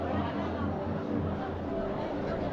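A dense crowd at a temple in Nepal chatters in a continuous, close, overlapping babble of many voices.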